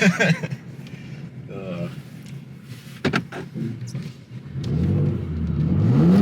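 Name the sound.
Porsche Cayenne Turbo or BMW M3 engine revving drifting in snow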